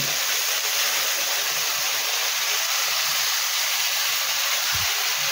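Water poured into a pan of Indian salmon cooking in mustard-poppy seed paste, a loud, steady hiss and rush that continues without a break.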